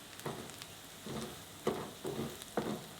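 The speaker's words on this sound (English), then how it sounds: "So now we're just going to add the garlic, ginger and fresh chili. Give that a good stir" Garlic, ginger and fresh chili sizzling with onions in a pan while they are stirred, a low steady fry under four rhythmic scraping strokes, close and fairly quiet, without talk.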